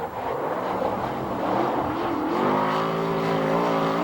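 Several 360 sprint cars on the first lap at Ventura Raceway, California, their engines roaring loud and close in a sustained, overlapping drone that climbs in pitch as the pack accelerates, with no talking.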